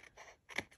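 Scissors trimming a paper craft embellishment, two or three quick soft snips with one sharper cut near the end, faint and close.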